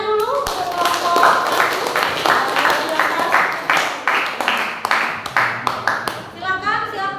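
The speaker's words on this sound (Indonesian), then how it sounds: "tepuk tangannya dulu untuk kelompok." A classroom of students applauding a group's presentation, a burst of many hands clapping at close range that thins into scattered claps, with a teacher's voice speaking over it.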